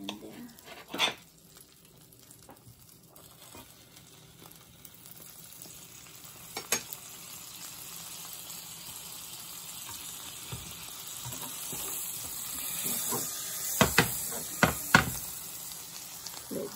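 Butter sizzling and frying in a pan for breakfast, a soft continuous hiss that builds gradually, punctuated by a few sharp clacks of utensil against the pan.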